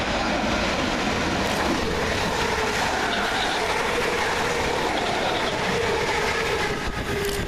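Two coupled Class 317 electric trains, 317881 and 317883, roll through a station in a continuous loud rumbling roar with wheel clatter, steady and close throughout.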